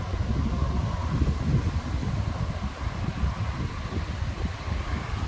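A strong foehn wind gust roars through a storm as a steady, dense low rumble that rises and eases slightly without pausing. There is no speech.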